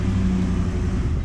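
A Ford Raptor pickup fitted with a Corsa exhaust idles after a remote start, a deep, steady rumble close by that stays loud and even throughout the short stretch.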